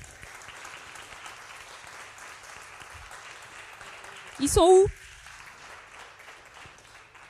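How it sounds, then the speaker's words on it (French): Scattered applause from an award ceremony audience for cooperative prize winners, steady and moderate throughout, with a brief louder burst near the middle and a voice speaking over it. "On peut les applaudir."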